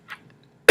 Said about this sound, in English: excuse me for all the coughing